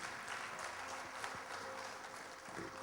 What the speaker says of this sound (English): Can we give him a big warm round of applause